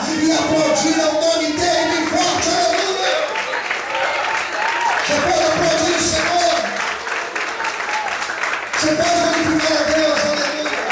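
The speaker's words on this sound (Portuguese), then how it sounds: "Todos podem glorificar e aplaudir ao nome dele bem forte" A church congregation applauds loudly and steadily, a dense wash of clapping with shouts and voices mixed in, swelling and dipping slightly over several seconds.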